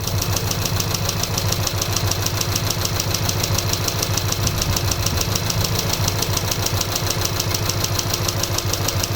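A VW Polo 1.2 TSI engine with a newly replaced timing chain idles loudly and close by with a rapid, regular knocking rhythm and constant rumbling vibration throughout.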